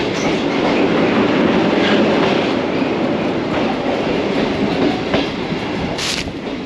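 A moving train near the Hooghly bridge in Kolkata rolls steadily with continuous rumbling and rhythmic clickety-clack from the wheels on the rails, loud and close throughout, with a brief squeal-like hiss near the end.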